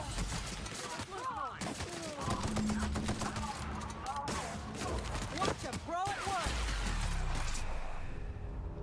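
Rifle shots ring out in The Outer Worlds, repeated sharp gunfire bursts spread through the clip, partly under someone talking.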